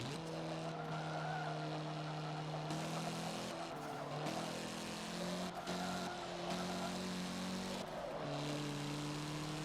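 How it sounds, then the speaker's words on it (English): Race car engine drone with tires squealing through corners in the Forza Motorsport 7 driving game, a steady sustained whine with shifting pitch and brief breaks as the car loses traction, continuous throughout. "I keep squealing the tires, meaning I'm losing traction going around the corners"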